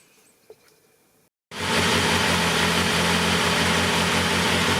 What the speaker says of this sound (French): Donc là, j'ai démarré la moto